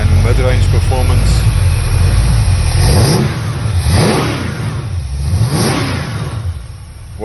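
A hot rod truck's V8 with an Edelbrock intake, distributor and 204-214 cam rumbles up close, throttle blipped in several rising-and-falling revs over a steady lumpy idle, with a voice talking over it.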